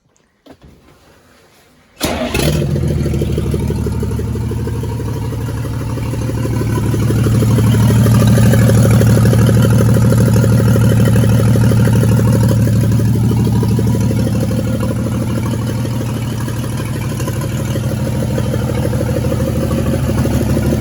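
After a brief quiet moment, a 1942 Chevrolet G506 truck engine starts and runs loudly and close by, rising into a sustained rev before easing back to a steady rumble.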